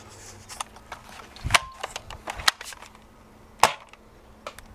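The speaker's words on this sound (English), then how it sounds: "It's gonna fire from the bottom barrel." A Nerf DinoSquad Tricera-Blast firing foam darts outdoors in the wind, with a few sharp snapping shots spaced a second or two apart over faint background noise.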